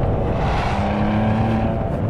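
A Ferrari 599 engine running, a loud steady mechanical drone with sustained tonal hum, heard close and continuous throughout.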